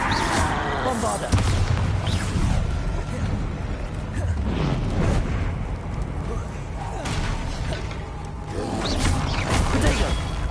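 A Bombarda blasting spell explodes in Hogwarts Legacy with booming impacts and rumbling debris amid busy game effects, as a voice talks over the action.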